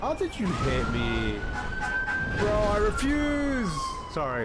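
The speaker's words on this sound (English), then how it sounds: "I said sorry for the siren" A fire truck siren wails and sweeps up and down in pitch, loud and close, while people talk over it.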